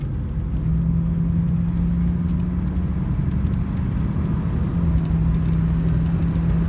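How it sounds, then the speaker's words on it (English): A Rolls-Royce engine hums steadily under a low road rumble, its tone holding and then rising slightly as it speeds up under throttle. "I'm going to put a bit of throttle on it so you can all hear what it's like"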